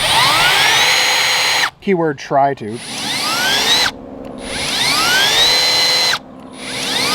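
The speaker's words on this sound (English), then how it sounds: "Let's go ahead and drill some holes in the boat." Power drill whines and shrieks in long bursts as it bores through carpet and the aluminum hull of a boat, pitch sliding upward, with a short spoken phrase between the bursts.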